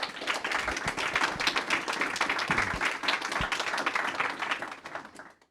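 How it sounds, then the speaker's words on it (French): Audience at a roundtable panel applauds the three speakers, a close, lively burst of individual and massed claps that holds steady before tapering off at the end. "Je pense qu'on peut les applaudir."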